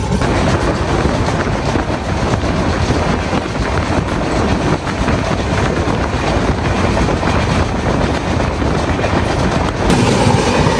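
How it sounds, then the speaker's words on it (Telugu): Loud, continuous rumble and rattle of the Howrah–Tirupati express rushing past nearby on the opposite track, with rhythmic wheel clatter and a sudden shift near the end. "సో మనకి ఆపోజిట్ లో ఒక ట్రైన్ అయితే వచ్చింది."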